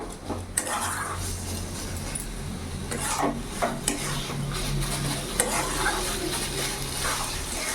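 Bathua greens are stirred and fried in a pan, with a steady low sizzle under repeated scraping and clinking strokes of a spatula against the metal, close and moderately loud with no talking.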